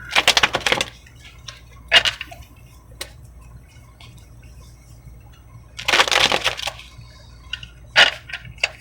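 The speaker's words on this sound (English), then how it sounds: "A couple of more shuffles." Oracle cards are shuffled by hand in short bursts of riffling and flicking, two main clusters of crisp close rustles with single snaps between and quiet gaps.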